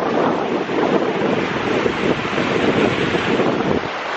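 Lake Superior waves crash and wash onto the shore in a continuous, loud roar, heard close by with heavy wind buffeting the microphone.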